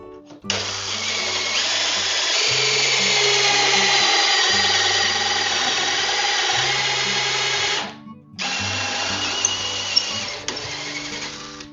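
A power drill whirs loudly and steadily for several seconds, driving into a pocket hole jig, stops briefly, then starts again for another few seconds.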